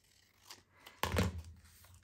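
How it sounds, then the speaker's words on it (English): Scissors snip across paper during a papercraft session, a few faint cuts followed by one louder, crisp slice close to the microphone. "snip right across, and you've got a better chance of going straight"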